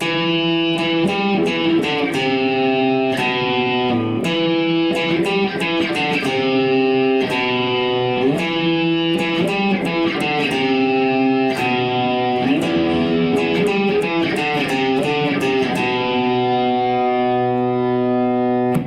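A distorted electric guitar plays a repeating riff, loud and steady, with heavy grit and sustain and no voices.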